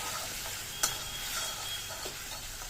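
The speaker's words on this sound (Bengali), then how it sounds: "আমার এই তো রান্না একটু ভালো করে কষিয়ে নিচ্ছি" Ground spices sauté in a pan for a pabda fish curry with potato and eggplant, a steady close sizzle with a couple of soft stirring knocks, no voices.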